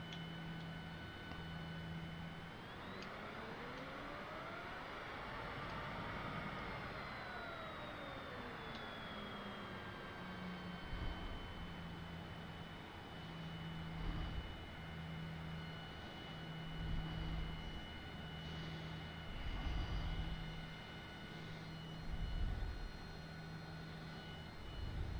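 A Cessna Citation CJ4 jet taxis in Microsoft Flight Simulator with a faint, steady turbine whine. Slow pitch sweeps and soft periodic clicks sit over a low, even drone.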